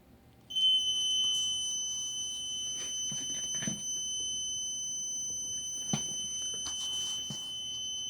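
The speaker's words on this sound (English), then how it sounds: "The buzzer" A high, steady electronic buzzer tone triggered by a BISS0001 motion sensor module sounds continuously and loud, with a few faint knocks and rustles underneath.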